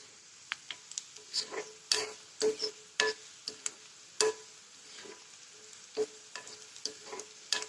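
Chopped onion fries in a pan for a spicy soybean curry, with sharp, scattered pops and crackles over a faint, quiet sizzle.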